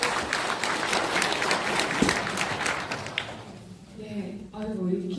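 Audience applause at a Democratic Party of Korea event welcoming a Supreme Council member to the stage, a dense crowd of clapping that fades toward the end while a voice begins over it.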